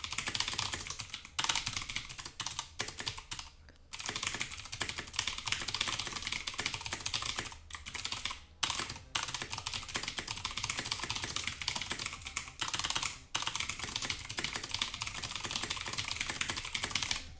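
Continuous typing on a computer keyboard, close and steady, with rapid key clicks running in bursts and a few brief pauses, no voices.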